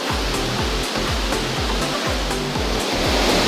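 A loud, constant roar of Nangartas waterfall in Amboli during the rains, nearby and unbroken, with a rhythmic low rumble pulsing underneath.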